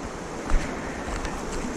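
A creek on a frosty day along the Ozark Highland Trail rushes steadily nearby, a dense, even wash of flowing water with no voices.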